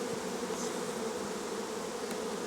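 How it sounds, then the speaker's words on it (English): Many honeybees swarm around a crowded hive, their dense buzzing forming a steady, continuous drone close by with no voices. "There's a lot of bees in this hive. They're everywhere."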